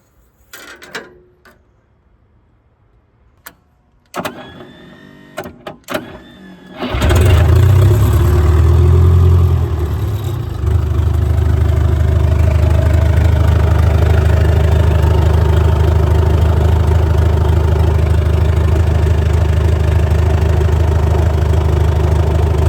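A Komatsu D31S track loader left sitting for years cranks with a few brief stutters, then its engine catches at about seven seconds with a loud surge and settles into a steady, heavy, close idle.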